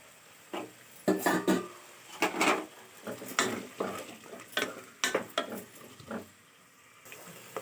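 Frying in a pan for thalakaya curry, with bursts of stirring and scraping against the pan over a low sizzle, in irregular close strokes with pauses between.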